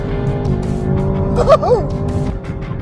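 A Chevrolet Camaro ZL1 1LE on a track holds a steady engine drone through a corner, with a brief rising and falling squeal in the middle. A driver talks over it from inside the car.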